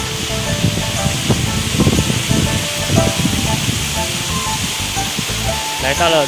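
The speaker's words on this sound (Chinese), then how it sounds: "来到了一个小瀑布。" A small waterfall in Yunnan, China gives a steady broadband rush of falling water throughout, loud and continuous, with voices talking over it.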